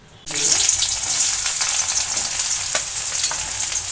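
Frying in a pan for a bendakaya (okra) curry, a loud steady broadband sizzle that starts abruptly after a brief quiet moment and continues with occasional stirring clicks.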